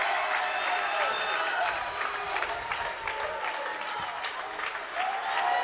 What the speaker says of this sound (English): The Leake crowd on their feet showing their elation and joy and appreciation.